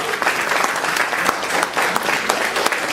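At a cosplay contest held at a Cultura store in Avignon, a crowd claps vigorously and steadily, with crisp individual claps standing out from the sustained applause and no speech on top.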